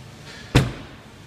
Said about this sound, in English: Just closing off the doors here, walk around.